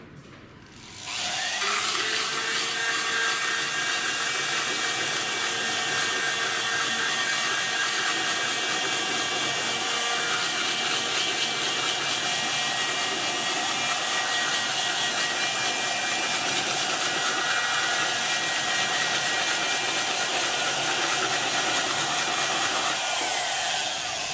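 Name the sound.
pendant motor spinning a burr against 100 grit sandpaper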